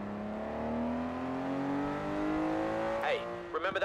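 Ferrari Testarossa engine in Forza Horizon 4, a smooth rising drone as the car accelerates steadily, ending with a quick shift and brief tire or gear noises; close and continuous.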